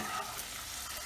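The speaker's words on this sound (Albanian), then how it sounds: "kanë marrë një farë skuqje patatet" Potato pieces frying in oil in a pan for a musaka with onions, a soft continuous sizzle with light stirring, quiet and steady with no talking.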